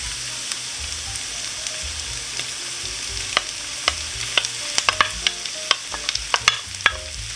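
Corned beef hash with onions and potatoes frying in a pan, a steady close sizzle with a run of sharp utensil scrapes and clinks from stirring growing toward the end, no speech.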